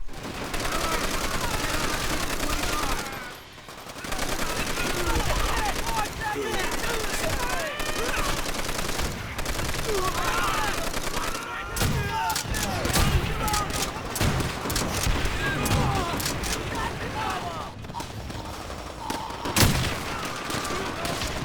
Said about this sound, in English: It's time to talk about my third favorite gun, the Browning M1919.